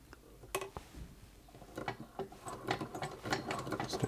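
A vintage Hexagon sewing machine made in Cleveland, Ohio, stitches at close range, its mechanism giving a quick, uneven series of mechanical clicks and ratcheting ticks that grow busier and steadier as it runs.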